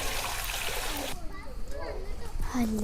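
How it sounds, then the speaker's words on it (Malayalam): Water pours and splashes into a cooking pot for about a second, loud and close, before it stops and quieter kitchen handling sounds and a brief voice follow. "കുറച്ച് വെള്ളം ഒഴിച്ചു കൊടുക്കട്ടെ കേട്ടോ"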